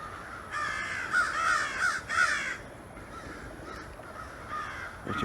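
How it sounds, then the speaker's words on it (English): Several crows caw loudly in a Metairie, Louisiana cemetery on a summer day, with harsh repeated calls in short bursts over a steady background hum and no voices. "I don't know if I'm freaking out the crows."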